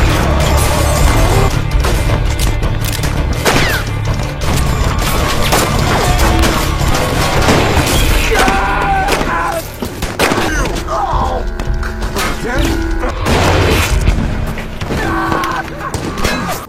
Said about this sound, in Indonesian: Howard dan Forrest kemudian datang dan baku tembak pun terjadi.